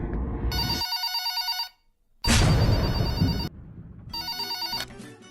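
A telephone rings at a police station in a comedy skit, giving loud, bright electronic ring bursts: a long ring, a short silence, then two more bursts, with no voices.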